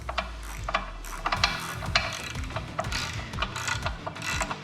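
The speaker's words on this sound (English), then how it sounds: "Let's get this crank spun over here and into the rod" A Cummins 6.7 diesel engine crankshaft is turned over by hand on the bench, giving a run of close, sharp ratcheting clicks and metallic clanks in an irregular rhythm, loud and with no voices.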